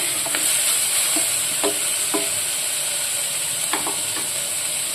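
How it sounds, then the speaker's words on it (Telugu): Onion is sautéed with turmeric in a pan, with a constant loud hissing sizzle and a few faint spoon scrapes and taps scattered through it, with no voices. "హాఫ్ స్పూన్ పసుపు కొంచెం కాస్తంత మగ్గించుకోవాలి ఉల్లిపాయని"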